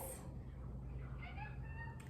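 Pet cat meowing at a bird outside the window, a faint, short meow over a low background hum.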